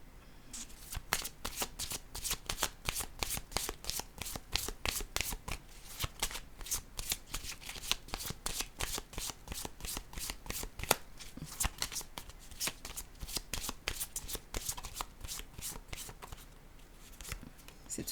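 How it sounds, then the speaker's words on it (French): Tarot cards are shuffled and handled in a rapid, steady stream of close papery riffles and flicks lasting the whole stretch, with faint talk underneath. "Je vais piger une carte rose."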